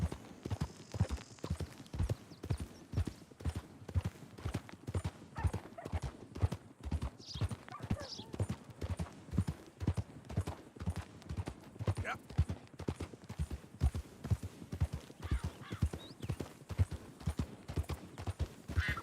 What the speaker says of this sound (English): Wait, why is that other horse following me?